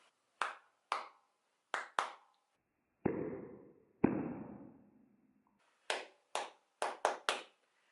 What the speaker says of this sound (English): if I clap, I should be able to turn on the plasma ball just by the noise that I'm making